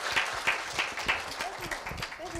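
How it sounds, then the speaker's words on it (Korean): Clapping from a group at a middle school students' speech contest, fairly sparse and uneven, with a few voices and noises mixed in as it tapers off. "힘찬 박수 부탁드립니다."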